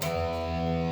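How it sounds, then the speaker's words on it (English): A sustained electric guitar chord with heavy overdrive, thick and distorted, ringing steadily at full volume for a second with no voices. "And you should have overdrive,"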